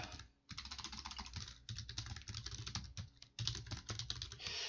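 Rapid keystrokes on a computer keyboard while a password is entered for a management console login, a steady close clatter of clicks with a few short pauses and no talking.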